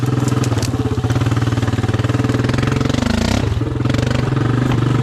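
A Honda Rancher 350 ATV engine runs close and loud, a steady rapid putter with slight revs in the middle and no talking.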